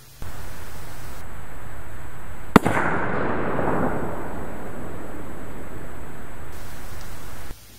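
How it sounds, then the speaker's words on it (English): An electrical fuse operates with a single sudden loud bang, followed by a sustained rushing noise that slowly fades. "you're probably hearing a fuse operate, which again, they're super loud as heard here"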